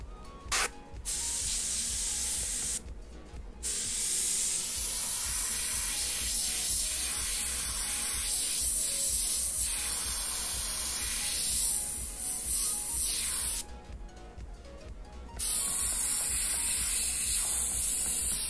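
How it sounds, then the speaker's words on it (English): An airbrush sprays paint onto fabric cornhole bags in a steady, close hiss that runs almost continuously, broken by a few short pauses where the spray stops. "that's the whole thing of an airbrush. It's air and it's a brush."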